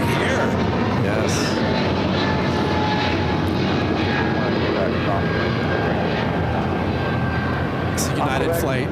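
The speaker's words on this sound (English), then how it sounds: "United Flight 2397 headed to Newark on this 777-200ER." A United Boeing 777-200ER jet roars loud and steady at LAX, its engine noise filling the whole span with a constant broadband rumble. Faint voices talk beneath it.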